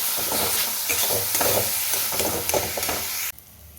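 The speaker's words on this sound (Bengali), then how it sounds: "এবার মশলাটাকে খুব ভালো করে কষিয়ে নেব যতক্ষণ না মশলাটা থেকে তেল ছেড়ে আসছে" Spice masala for egg curry frying hard in hot oil while being stirred steadily, a dense continuous sizzle punctuated by repeated scraping strokes, close and loud, cutting off abruptly near the end.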